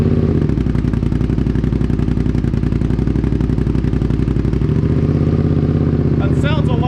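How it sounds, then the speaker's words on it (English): A Suzuki SV650 motorcycle runs close by on a new exhaust, with a steady, even, throbbing idle throughout and a brief higher-pitched sound right at the end. "do a little test start and see how this exhaust sounds"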